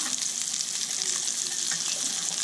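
Hamburger patties sizzle steadily in a hot pan at home, a loud, continuous bright frying hiss with small crackles and light scraping as they are flipped, no talking.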